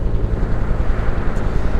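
A continuous low rumbling drone of a Huey helicopter near a beach, steady and fairly loud with a churning, buffeting texture.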